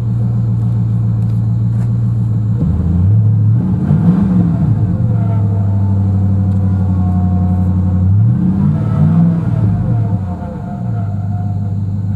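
A 2001 GMC Sierra pickup's engine, with a worn pulley, idles with a loud, steady close rumble, rising in two brief revs before settling back to idle.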